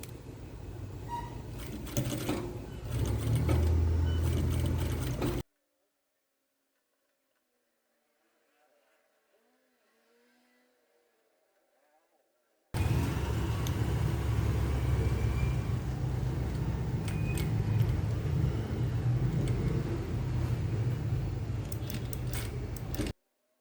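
A sewing machine stitching the yoke seam of a denim skirt, loud continuous motor whir with rattling in two long runs separated by several seconds of near silence.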